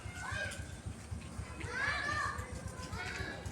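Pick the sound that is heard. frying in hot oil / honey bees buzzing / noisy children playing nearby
noisy children playing nearby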